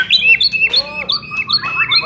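A white-rumped shama, the Medan murai, sings a lively run of clear whistles, chirps and sharp squawky notes, loud and close in a steady stream.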